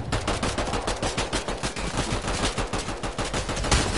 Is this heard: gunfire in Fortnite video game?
yes